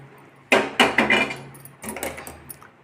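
Avakaya mango pickle being mixed with seasoning and tempering, a series of close, rough scraping and clattering strokes against the container, several in quick succession and then a softer second run, no voices.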